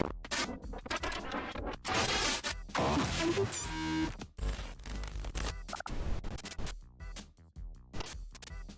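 A fake generator from the Roblox game Forsaken plays as a harsh, scratchy, glitchy mechanical grind with stuttering bursts and choppy gaps, loud and alone without speech.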